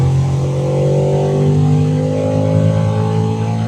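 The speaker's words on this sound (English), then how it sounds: "Let's do a little fourth gear pull" A twin-turbo Ford F-150 Raptor with about 800 wheel horsepower pulls hard in fourth gear at 6 psi boost, its engine droning loud and close as the pitch climbs steadily under load.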